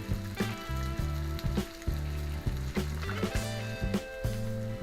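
A full English breakfast fries on a hot steel plancha with a steady close sizzle. Background music with a regular beat plays over it, and sharp clicks and scrapes break through now and then.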